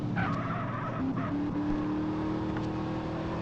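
Racing car drifting in GTA San Andreas, with a steady, loud tire squeal over continuous engine noise that runs the whole time, the squeal rising in short bursts and then holding.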